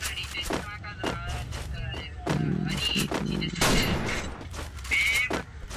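Shotgun blasts in a video game, several sharp booming shots fired at irregular intervals amid other game noise, with someone talking over the gunfire.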